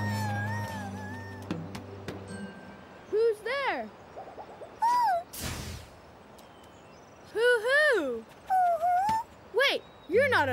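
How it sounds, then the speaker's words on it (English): A small cartoon owl in a children's learning game making repeated wavering hoots and cry-like calls, several short loud bursts in quick succession after a brief musical passage and a whoosh. "You're an owl, a tiny owl."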